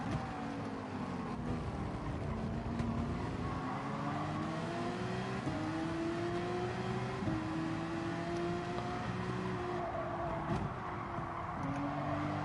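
A twin-turbo V8 McLaren race car in Gran Turismo 7 drones steadily through a race at Autopolis, Japan, its engine note rising and falling with gear changes and throttle, loud and continuous with no talk over it.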